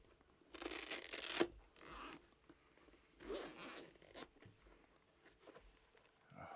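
Several zipper pulls on a Steam Deck OLED carrying pouch, quick raspy bursts close up, separated by pauses and soft handling rustles.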